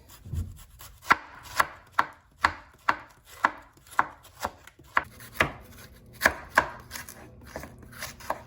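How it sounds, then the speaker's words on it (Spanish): A knife chops cabbage very finely on a cutting board, producing a clear series of about fifteen sharp, crisp thuds in an uneven rhythm, close and isolated with no speech. "Ahora vamos a picar el repollo lo más fino posible."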